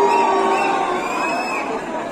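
A large crowd cheers and shouts loudly and continuously at a Diwali celebration in a university hostel. The roar is dense and close, with voices blending into a steady din.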